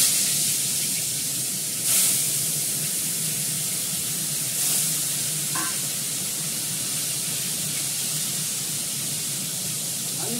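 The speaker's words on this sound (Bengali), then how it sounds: "মাছটা ভেজে নিই।" Fish frying in a pan, a continuous bright hiss and sizzle of hot oil, steady and close, with a few brief clatters of cookware.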